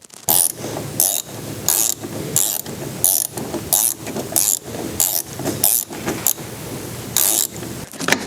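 A torque wrench ratchets in quick clicking bursts while a Yamaha Tmax scooter's rear wheel is tightened. Around a dozen sharp metallic strokes repeat in an even rhythm, close and fairly loud, with no voices.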